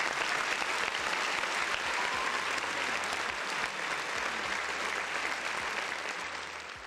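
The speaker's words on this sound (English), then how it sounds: "Round of applause, man, everybody in the chat" Dense, steady round of applause from many hands, sustained and even for several seconds before tapering a little at the close, with no voices over it.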